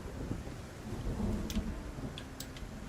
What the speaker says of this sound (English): we are walking out in the fucking storm in the dead of night